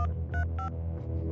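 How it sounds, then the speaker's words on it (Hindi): Three short electronic phone keypad tones in quick succession, clean and close, over a low steady hum while a number is dialed. "तामिर ने एक और नंबर डायल किया"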